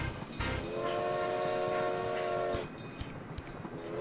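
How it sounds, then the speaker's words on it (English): A train whistle sounds in the RollerCoaster Tycoon park-building game, one sustained multi-tone blast lasting about two seconds over a rumbling rail-and-park background, with a brief second toot beginning at the end. "Trains are very vocal today, too. Jeez. Never heard them whistle that much."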